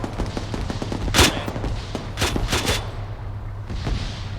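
Gunfire in the military shooter Arma 3: several sharp rifle shots, one on its own and then a quick cluster, fairly close, over a steady low background hum with no talking.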